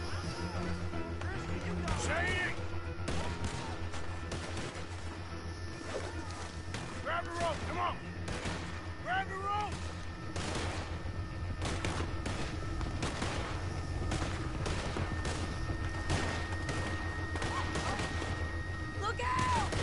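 Repeated sniper gunshots from the video game Red Dead Redemption 2 crack through a dense, busy in-game soundscape, while a player's voice talks over the shots.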